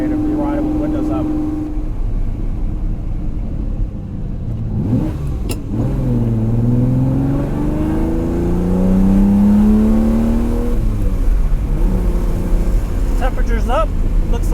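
A Ferrari 330 GTC cruises with its windows open, engine note rising and falling through gear changes under heavy wind and road rush, with someone talking over the noise.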